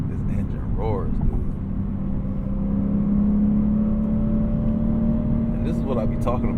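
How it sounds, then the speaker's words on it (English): A car engine roars and climbs steadily in pitch as it accelerates, loud and close, with a person speaking briefly over it. "engine roars, dude."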